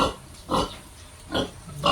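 A six-month-old native pig eating, apparently squash, gives a few short rough grunting or chomping bursts spaced about a second apart, fairly close with low background noise between.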